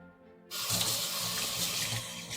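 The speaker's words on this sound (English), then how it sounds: "We need to run our hands under water for a good while" Tap water starts abruptly and runs steadily over hands at a kitchen sink, a continuous close hiss and splash after half a second of quiet.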